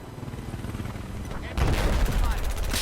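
Rapid automatic gunfire from the Engineer's personal defense weapon in a shooter game, a dense fast stream of shots that swells louder partway through amid other battlefield noise.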